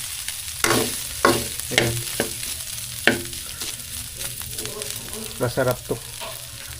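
Pork fries in its own rendered fat for dinuguan, hissing steadily while a utensil scrapes and stirs in sharp, repeated strokes; a voice speaks briefly.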